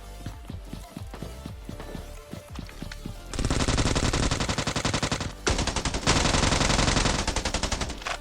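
Rapid gunfire in the Scarfall 2.0 battle royale game on the Andaman map, starting as spaced single shots and then breaking into loud, dense automatic bursts with a short pause between two long volleys.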